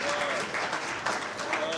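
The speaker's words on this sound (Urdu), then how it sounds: "اس پہ اور تالیاں آنا چاہیے" An audience at a mushaira poetry recital in Aurangabad breaks into applause, a dense, loud clapping that continues steadily throughout at close range.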